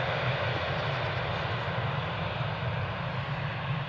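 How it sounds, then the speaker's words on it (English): A Lufthansa airliner taxis onto its stand at Newcastle Airport, engines giving a steady loud rumbling drone with a hissing top, close by and constant throughout. "Just as the aircraft's taxiing in onto stand 4"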